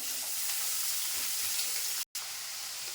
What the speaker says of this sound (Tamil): வெங்காயம், போட்டு வதக்குவோம்